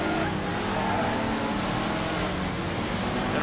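A car in the racing game Wreckfest pulls away after a clutch pop, its engine a steady, loud, broadband roar held throughout.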